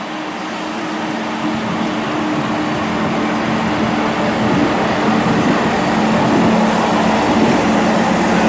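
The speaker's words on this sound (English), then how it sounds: "So we're just waiting for our train to pull in now" Train pulling into a station platform on the line toward Chester, a steady loud rumble and hiss that builds gradually and fills the whole stretch, with no talk.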